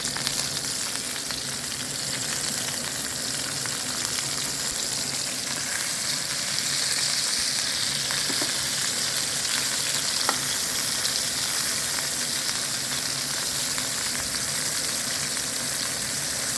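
A steak sears in a hot pan after being flipped, giving a steady, dense frying sizzle that runs loud and unbroken throughout, with occasional small pops and crackles and no talking.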